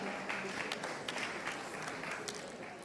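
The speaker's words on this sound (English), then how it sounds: "A big applause to our wonderful partners" Audience applause at the Best Pizza Awards ceremony in Milan, a moderate, fairly distant patter of clapping that holds steady for a few seconds.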